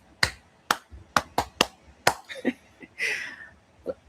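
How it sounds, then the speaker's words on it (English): An instructor claps hands several times in a quiet room during a PMP exam prep lesson, sharp close single claps spaced unevenly, followed by a few softer taps and a brief rustle. "Let me clap for those who got it."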